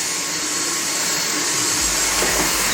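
A Dyson cordless vacuum cleaner runs on a mat with a loud, steady, close whine and rush of suction, the airflow tone shifting slightly partway through as the head moves over the mat.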